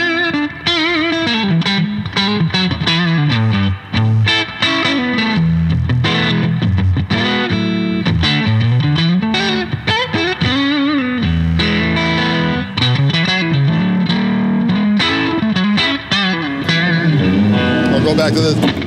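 Electric guitar played through the clean channel of a Koch signature amp with the OTS boost engaged, a continuous loud riffing line with a gritty, driven edge and sliding chords and single notes, no talk.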